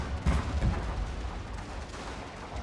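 Cannon fire booms in a video game bombardment, with a couple of heavy thuds early on over a continuous rumbling battle din.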